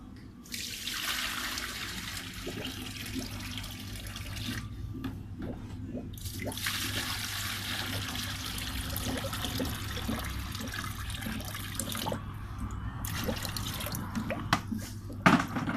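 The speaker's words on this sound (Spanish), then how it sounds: "se llena con agua fría" Cold water runs from a tap into the tanks of a Ventus VSP-25PRO soft-serve ice cream machine, a loud close gush that stops briefly twice, with scattered drips and knocks.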